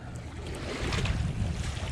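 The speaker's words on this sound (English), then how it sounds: "It's 10-mile-an-hour winds and 40 degrees." Cold wind gusts on the Ohio River, about 10 miles an hour at 40 degrees, rumbling against the microphone over lapping water, the low buffeting building and staying loud with no voices.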